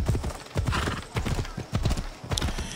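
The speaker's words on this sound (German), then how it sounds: "Wir reiten mal schön durch den Ort." Horse hooves clip-clopping while riding through a town in Assassin's Creed Odyssey: rhythmic paired hoofbeats, close and fairly loud, repeating steadily with a brief whinny-like snort near the end.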